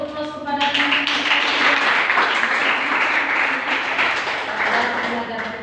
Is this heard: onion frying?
no